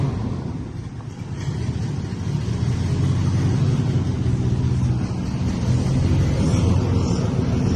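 A 1971 International Harvester Loadstar truck engine runs steadily at a fairly loud, continuous low rumble, with wind buffeting the microphone and no talking.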